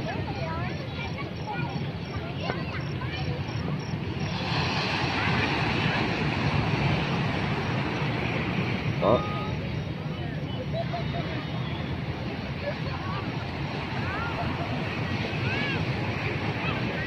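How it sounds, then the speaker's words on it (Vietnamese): Gentle sea waves washing ashore at Nha Trang beach at night, a continuous soft surf wash mixed with wind rumble on the microphone, with faint crowd murmur in the background. "Sóng rất là nhẹ nhàng."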